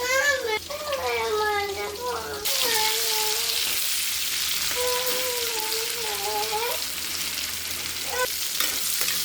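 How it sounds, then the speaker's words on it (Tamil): Tuna fish curry boiling and frying in a pan on a home stove gives a steady sizzle and bubbling hiss throughout, while someone speaks intermittently over the cooking. "நல்லா கொதி வருது."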